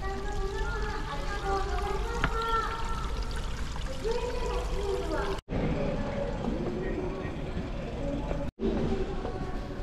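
Strong spring water flows in a steady, loud rush with a broad noisy wash close by, in a park setting by Wakayama Castle in Japan. It is briefly interrupted twice by short dropouts.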